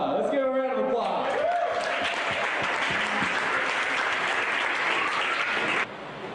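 Audience applause at a Tomorrow Leaders awards event for the second runner-up, Elmer Ramirez Silva: a steady, full round of clapping from many people, with a voice speaking briefly over the start, then ending abruptly near the close.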